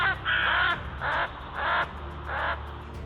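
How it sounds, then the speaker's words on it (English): A crow being attacked by a falcon caws loudly in pain, four harsh drawn-out calls in a steady rhythm, close and clear with no talking. "While the poor crow shouts in pain, the falcon seems less concerned"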